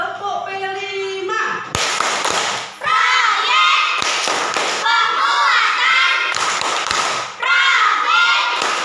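A school class claps in unison in short sharp bursts, separated by brief pauses and mixed with children's voices chanting together, loud and close.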